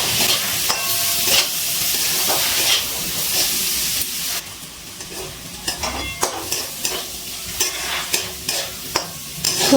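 Mixed vegetables stir-fried with salt in a pan for restaurant-style fried rice, a steady sizzle and hiss broken by repeated scraping stirs that grow sharper and more spaced in the second half.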